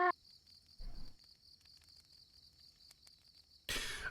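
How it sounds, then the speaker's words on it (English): Crickets chirping at night as tabletop game ambience, a faint, continuous high trill running under soft background noise, broken by a short cough-like burst early and a louder rush at the end. "You know it's less cricket than cricket? Quieter crickets."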